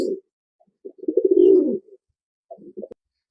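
Pigeons coo close by in soft, low, rolling bursts: one long throaty coo in the middle, then a shorter broken one after a pause.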